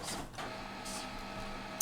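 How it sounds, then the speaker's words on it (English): A home printer running steadily at moderate loudness, with a continuous mechanical whir and periodic swishing passes of the print head, ending in a brief click. "I'm sorry about my printer."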